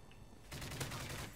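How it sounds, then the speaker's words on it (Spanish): Faint bursts of gunfire ring out in the video game Call of Duty Modern Warfare 3, a quiet lull giving way to a rapid, distant volley of shots. "Hay algunos por el lado porque oigo los disparos"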